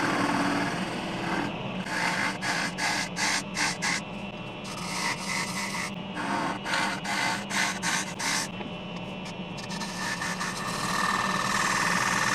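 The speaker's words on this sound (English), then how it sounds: "I kept alternating scraper and spindle gouge until the bottom, or top," Wood lathe turning a lid while a scraper and spindle gouge cut the spinning wood, giving rhythmic rasping scrapes in repeated short strokes over a steady motor hum, fairly close.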